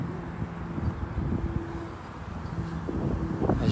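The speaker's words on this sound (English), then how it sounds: "Very windy here" Steady wind buffets the microphone at an outdoor lawn bowls green during a mixed fours final, a continuous low rumbling roar with gusts that swell slightly toward the end, no voices over it.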